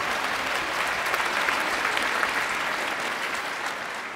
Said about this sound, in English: I'd like a little round of applause